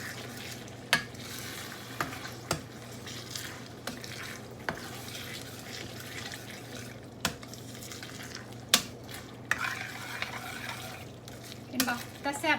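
A coconut milk mixture sautéed and stirred in a pan for Lao num mee ka tee, a steady low sizzle under scattered clicks of a utensil against the pan, moderately quiet and close throughout.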